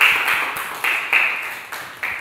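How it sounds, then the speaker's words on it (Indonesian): A classroom group claps for the third team after its presentation: a handful of scattered, uneven handclaps, fairly close and moderately loud, with no voices. "kita kasih tepuk tangan untuk kelompok 3"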